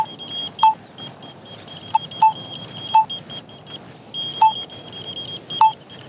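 Short electronic beeps from a handheld RFID reader gun used to scan beehives for pollination tracking, about seven single chirps spaced irregularly over a steady background hum.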